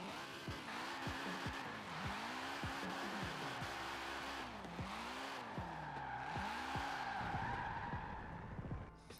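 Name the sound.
car drifting with tire skid in video game Forza Horizon 4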